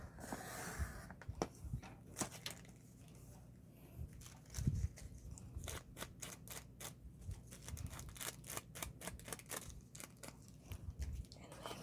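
Scissors snipping through wax paper holding pressed flowers, a long run of sharp, close crisp cuts in uneven rhythm, fairly quiet, with no talking.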